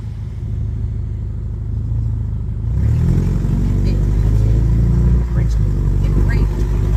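A car running without a muffler rumbles loudly up close, then revs into a harsher, louder roar that holds steady with slight fluctuations; no clear speech is heard over the engine.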